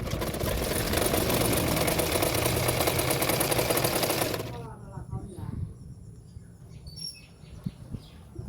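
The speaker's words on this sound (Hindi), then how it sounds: "उसके किनारे किनारे पे मैं और एक सिलाई कर दूंगी" A sewing machine runs a continuous stitch along the edge of a katori blouse, a dense close whirring lasting about four seconds before it stops, leaving soft handling noises and faint chirping in the background.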